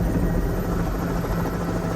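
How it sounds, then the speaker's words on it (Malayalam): A helicopter landing on a helipad in Zimbabwe gives a loud, steady whirring rotor roar, close and continuous with no pauses. "ഹെലിപാഡിലെ മഞ്ഞ വൃത്തത്തിനുള്ളിൽ വോൾട്ട കൃത്യമായി ഹെലികോപ്റ്റർ ഇറക്കി"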